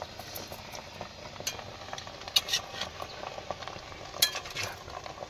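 Ground cumin fries in a clay pot on an earthen stove: a faint, steady sizzle with soft scraping and a few sharp clicks as it is stirred.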